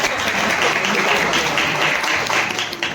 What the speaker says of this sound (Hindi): एक बार जोरदार तालियां अपने लिए बजा दीजिए।